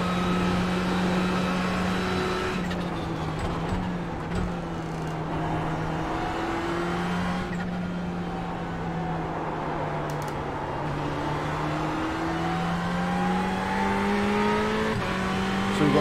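A Ferrari 488 GT3 Cup race car lapping Suzuka in iRacing, its engine howling continuously at high revs, pitch sweeping up through gears and dipping on shifts, loud and close from start to finish.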